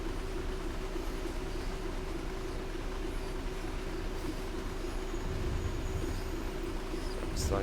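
A DB Class 66 freight train coasting in a train simulator game, a steady rolling rumble with a constant tonal hum throughout and a brief high squeal near the end, with no talk over it.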